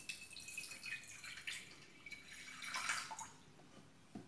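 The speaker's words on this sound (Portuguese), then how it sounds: "Vou pôr só um fundinho de água." A little water poured into a deep plate or bowl, already holding a few drops of bleach, before napkins are boiled in a microwave: a soft, close splashing trickle over a few seconds.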